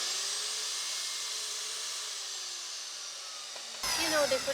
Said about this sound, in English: has now been taught how to use the chop saw